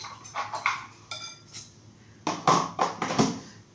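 Hazelnut cookie dough being beaten in a bowl after fructose is added, giving irregular scraping knocks and clinks of a utensil against the bowl in quick uneven bursts, fairly close, with no talking.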